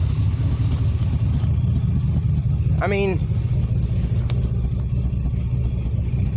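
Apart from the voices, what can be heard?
1989 Chevrolet Silverado truck engine running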